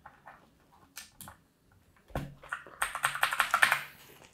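Blue Switch keys on a Gamepower Saber mechanical keyboard click sharply, starting as a few scattered presses and building into a rapid, steady run of close typing.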